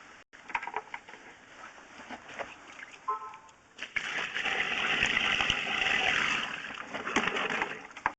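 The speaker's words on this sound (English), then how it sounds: "So I'm going to pour some water down." Water is poured down a residential sewer line during a camera inspection. After quiet drips and knocks, a broad rushing gush swells midway and keeps flowing to the end.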